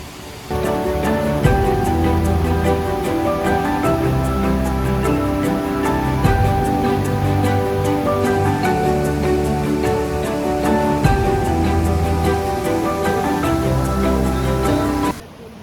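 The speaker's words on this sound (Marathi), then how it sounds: "तुम्हाला आवाज येतच असेल. त्या तिथे वॉटरफॉल आहे" Water rushes at a waterfall near Mangaon in the rainy season, a loud, continuous roar that holds steady throughout with no talk over it.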